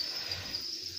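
Crickets trill in a steady, continuous high chirp, fairly close and alone, without any voices.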